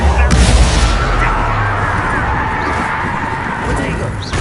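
Confringo blasting curse from the Hogwarts Legacy video game, a deep booming blast that opens loudly and rumbles on under a continuous dense wash of game sound and voices.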